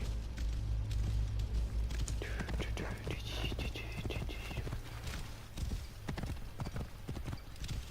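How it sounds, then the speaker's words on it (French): Rhythmic clip-clop of a horse galloping in Assassin's Creed Origins, steady hoofbeats throughout with game ambience and faint whispery voices underneath. "On va avec notre cheval, on va le sauter dessus."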